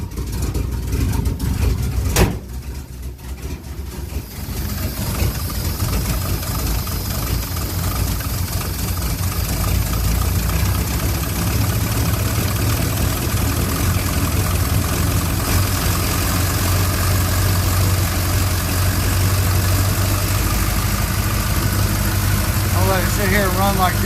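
A 1967 Chevrolet C10 pickup engine idles steadily after a camshaft change, a continuous close rumble with a faint ticking, running alone for a long stretch after a brief knock near the start.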